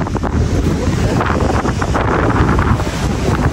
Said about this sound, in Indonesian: Anginnya gede euy.